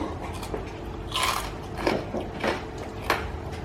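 Biting into crispy oven-roasted pork loin skin: several sharp crunches spaced through a short stretch of chewing, close and fairly loud, with no talk.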